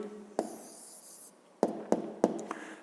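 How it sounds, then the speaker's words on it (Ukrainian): Handwriting the answer to a fifth-grade math exercise: soft scratchy pen strokes on paper, in short bursts with small taps between, close and fairly quiet, with no talking. "Давайте так і запишемо тоді відповідь."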